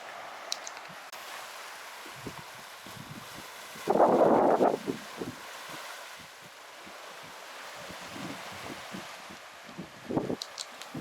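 Wind blows at a beachside cafe in Bang Saen, a soft, steady rush with one stronger gust roaring briefly, plus scattered faint knocks and rustles nearby.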